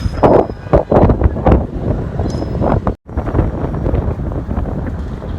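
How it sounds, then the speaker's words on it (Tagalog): Strong wind buffets the microphone in loud, rumbling gusts, with one brief lull before the roar returns. "nililipat talaga ako ng hangin pati yung cellphone ko"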